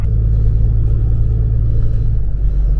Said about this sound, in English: On the road, pulling out.